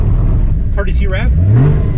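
A Porsche GT4 engine gives a quick courtesy rev at a Dairy Queen drive-through, a loud rising roar over a steady low rumble, with a voice speaking briefly over it.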